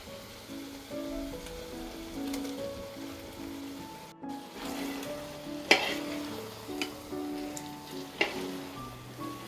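Masala sizzling and frying in a pan while being stirred, with soft crackling throughout and a few sharper scraping clinks from the spoon, heard close but fairly quiet.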